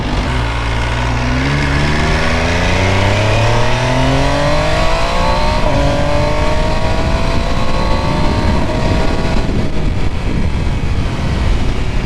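An MV Agusta Superveloce 800 motorcycle engine revs loud and close, its pitch climbing and falling in repeated sweeps as the rider accelerates, with no talking over it.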